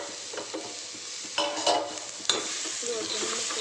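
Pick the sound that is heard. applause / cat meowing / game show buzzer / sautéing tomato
sautéing tomato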